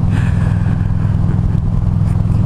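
A motorcycle cruising along the road, captured from the rider's camera as a loud, continuous low engine rumble mixed with wind noise, with the level wavering slightly but never letting up.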